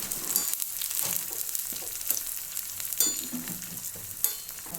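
Sliced shallots, dried chillies and curry leaves fry in coconut oil for an avial tempering, making a bright, continuous crackling sizzle up close, broken by intermittent scraping stirs and sharp spits, with no voices.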